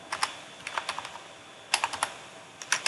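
Keys clatter on a computer keyboard in quick clusters of crisp, close taps, with a short pause between bursts and no talking.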